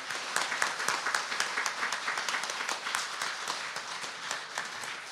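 A church congregation applauds, many hands clapping together in a dense, continuous patter at moderate volume for several seconds.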